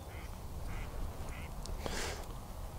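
Ducks quacking outdoors near a river during retriever training, several faint distant quacks in short repeated bursts over light background noise.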